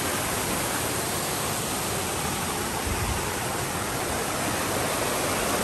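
A waterfall along a mountain trail and old creek path rushes in a steady, dense broadband roar, constant and fairly loud, with no voices.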